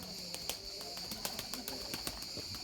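A white Erzurum pigeon, a purebred young bird, with faint, sparse wing flaps and soft bird sounds against a quiet background hum.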